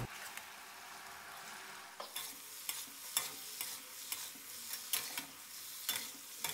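Mackerel fillet being stir-fried with aromatics for a Thai basil dish: a steady low sizzle under a spatula that scrapes and clacks against the pan at roughly regular intervals, close up, with no voices.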